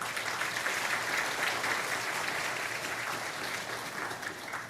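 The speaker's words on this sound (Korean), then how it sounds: "박수로 환영해 주시기 바랍니다." A church congregation applauds in a sustained, even wash of clapping, a moderately distant crowd sound with no talk over it.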